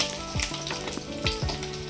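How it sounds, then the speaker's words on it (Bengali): Rohu and bata fish fry in a pan in a home kitchen, giving a steady, close sizzle with a few sharp spatters and stirring scrapes. "মাছ ভাজা চলছে।"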